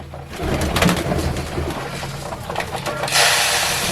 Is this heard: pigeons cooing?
yes